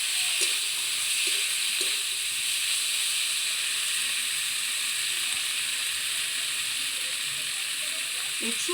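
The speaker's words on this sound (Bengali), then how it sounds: "লবণ, ভালো করে মশলাটা কষা হবে" Ground spices fry in a pan, likely with salt, for a gourd and shrimp curry. A loud, continuous hiss and sizzle runs throughout, with a few faint stirring knocks underneath.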